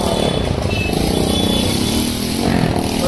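A motorcycle with its silencer removed roars loudly and continuously up close during a road ride toward Delhi, with a harsh, unmuffled engine rumble throughout.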